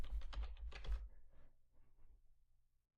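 Typing on a computer keyboard, a quick run of close key clicks that thins to a few faint taps and fades out.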